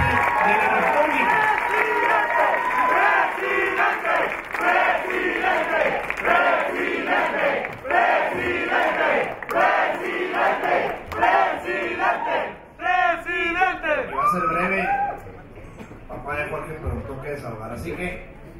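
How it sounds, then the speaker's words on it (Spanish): Crowd at a political rally for a presidential pre-candidacy registration, loud cheering and chanting with scattered applause, sustained and dense, thinning somewhat near the end. "quien pide un fuerte aplauso, Jorge Álvarez Maynes, futuro presidente"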